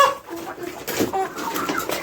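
Broiler chickens clucking and chirping in a flock at close range while feeding, a busy overlapping chorus of short calls with some background voices.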